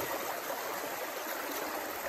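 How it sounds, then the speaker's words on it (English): Water rushing and splashing steadily as a pail is dipped at a gold-panning site, a continuous close hiss of moving water with no voices. "Let me get a little water in my pail here."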